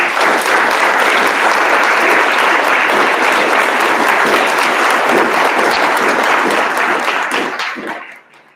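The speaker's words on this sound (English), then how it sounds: "So one more round of applause for all of our honors." A large audience at a board of education meeting applauds loudly and steadily for several seconds before the clapping fades out.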